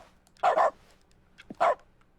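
Dog barking in an Italian narrative video game, two short, clear bark bursts spaced about a second apart over quiet game ambience, with no talk.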